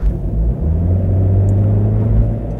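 Honda CR-Z hatchback engine droning steadily while driving, a low continuous rumble with little wind or tire noise, heard from inside the car with no talk.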